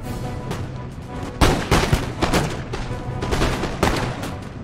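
Musket volley fire in Empire: Total War, with dense crackling bursts of many rifles going off together, a big loud volley near the middle and more ragged rounds following under a constant battle din.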